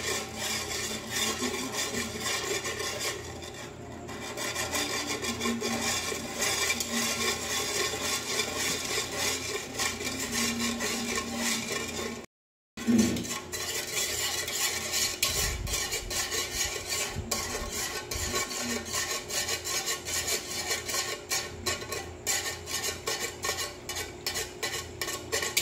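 A chocolate ice candy mixture is stirred in a container, giving a steady, continuous scraping and rubbing that runs close and fairly loud, with one brief silent gap midway.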